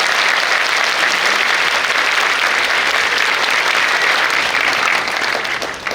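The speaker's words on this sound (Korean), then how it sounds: "뜨거운 박수로 맞이해주시기 바랍니다." Loud, sustained applause from a large audience at a talk concert welcoming a four-star admiral, dense and continuous throughout before tapering slightly at the very end.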